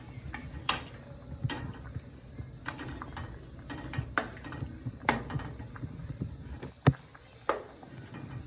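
Butter being stirred as it melts in a pot for a seafood boil, with irregular scraping and knocking of a utensil against the metal, several sharper clanks standing out amid a low continuous background.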